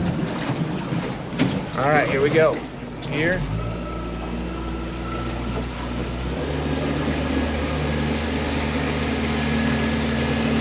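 A 2015 Smokercraft Phantom 182 boat with a Yamaha 90 outboard runs across the water, a steady droning motor under heavy wind buffeting with splashing, close and loud, while someone speaks briefly at the start.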